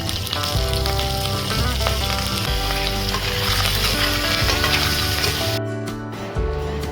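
Cumin seeds and curry leaves sizzling in hot oil while preparing a samosa filling, a loud, continuous frying crackle close up, easing slightly near the end.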